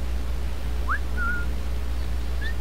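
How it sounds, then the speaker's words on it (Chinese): Whistling from a player character luring an enemy in Assassin's Creed IV Black Flag: a few short, clear rising and flat whistle notes over a steady low background hum, with no talking. "啊，我躲在这里，用口哨吸引他。"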